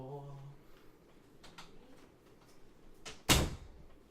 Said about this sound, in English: Let me close the door for a moment.